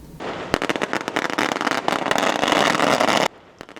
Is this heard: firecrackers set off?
yes